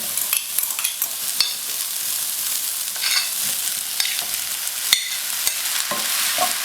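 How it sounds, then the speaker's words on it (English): Vegetables frying with onions and kalonji seeds for Punjabi samosa filling, a bright continuous sizzle broken by sharp clicks of a spoon stirring against the pan, with no voices. "To this, I'm just adding a big pinch of kalonji seeds and adding our vegetables to it."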